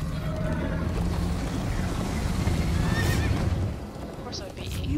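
A horse in the Minecraft Story Mode video game whinnies loudly over a dense, steady drumming of galloping hooves and other game noise. The sound eases slightly near the end.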